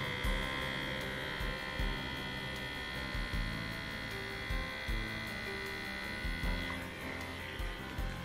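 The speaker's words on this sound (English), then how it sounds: "this is the button that you turn the machine on, kind of hold for several seconds, and you can see the head start moving" A facial treatment machine runs with its head moving, giving a steady electric hum and buzz with faint rhythmic pulses throughout, close and continuous, with no talking.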